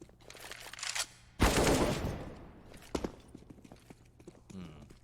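Gunfire in a Counter-Strike match on the Mirage map, as a sharp loud burst of rifle shots followed by a few isolated shots fading out, with a commentator talking in places.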